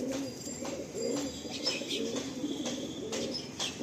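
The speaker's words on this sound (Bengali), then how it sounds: "খুব চনমনে পায়রা।" A lively caged female pigeon of a Madrasi, Andhra or Malwai breed coos softly and repeatedly at close range, with faint chirps and light rustling above a steady background hum.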